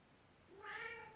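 Domestic cat giving a single short, fairly faint meow that rises and falls near the end of a quiet moment, with no talk over it.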